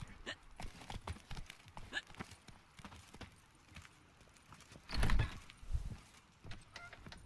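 Horse hooves in The Witcher 3: Blood and Wine, a faint, uneven clip-clop of steps under soft game ambience, with a louder thudding burst midway and a voice speaking briefly.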